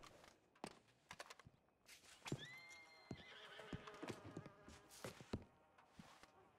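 A horse whinnies loudly amid clip-clopping hooves in a western video game, with a buzzing fly and footsteps mixed in; the neigh rises and falls for a couple of seconds at mid-distance.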